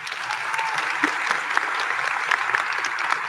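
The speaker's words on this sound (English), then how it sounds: "So I want to give a big round of applause to all our teachers." Steady applause fills a large graduation hall as an audience claps for the teachers, a dense, even wash of many hands at moderate distance, sustained throughout with no break.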